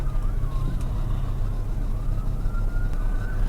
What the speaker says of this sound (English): There are police sirens going by where we're at